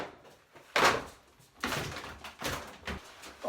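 Sliding shower doors on a fiberglass bath enclosure are pulled and lifted out, giving several sharp knocks and rattling scrapes of metal track and panels, close and uneven.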